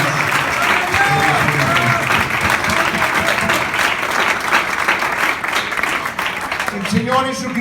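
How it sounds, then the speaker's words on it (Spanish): A church congregation applauds loudly and steadily for several seconds, dense clapping filling the room, with a voice speaking briefly at the end. "Un aplauso fuerte para el Señor Jesús."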